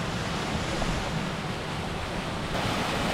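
Steady, dense rushing water roars without pause, a broad continuous wash of falling water close by from the Pršjak waterfall in the Pršjakarska gorge at Trebuša, Slovenia, with no voices.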